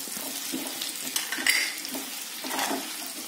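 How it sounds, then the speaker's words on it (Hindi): Mustard, turmeric and coriander powders being stirred in a pan of hot oil for tomato pickle, a soft sizzle with light scraping strokes and an occasional clink of the spoon against the pan. "और इसे अच्छे से चला लेंगे।"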